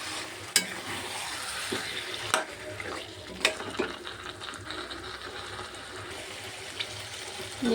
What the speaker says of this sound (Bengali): এবারে মশলাগুলো সব ভালো করে ভেজে নেব